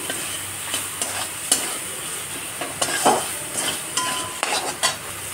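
Fried prawns go into sizzling masala in a pan for Bengali fig and prawn curry, a steady sizzle under frequent metallic clanks and scraping of a spoon stirring against the pan.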